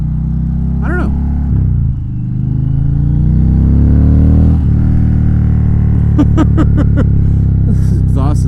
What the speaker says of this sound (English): This exhaust is still mean.